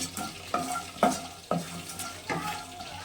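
Broad bean mash ingredients fry in a pan while a spoon stirs them in regular scraping strokes about every half second, over a light, constant sizzle.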